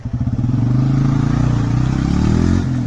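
An RTR motorcycle engine revved hard close by, a loud throbbing mid-pitched growl that pulses up, holds steady, then drops off near the end.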